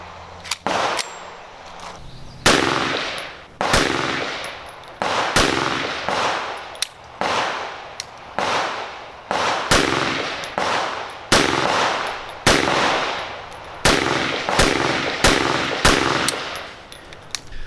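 An AMT AutoMag II stainless steel .22 Magnum pistol fires rapid magazine dumps, each a fast string of sharp, loud cracks with ringing, metallic tails, broken by short pauses between strings.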